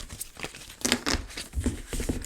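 Crinkly foil sheets from a stationery kit rustle and crackle as they are handled up close, in uneven bursts of crisp crumpling with brief pauses between.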